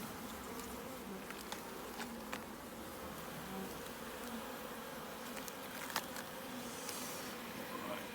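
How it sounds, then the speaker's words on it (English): A dense, steady hum of many bees buzzing close by, with occasional sharper passes as individual insects fly near. "Bees everywhere."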